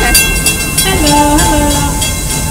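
The Busch Gardens Tampa amusement park train rolls along with a steady loud rumble, while short gliding tonal sounds pass over it near a railroad crossing.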